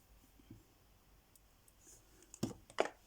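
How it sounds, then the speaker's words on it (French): The plastic cap of a glue bottle is snapped shut at a crafting table, giving two sharp, close clicks near the end after a quiet stretch with faint handling noise. "Je vais fermer la colle."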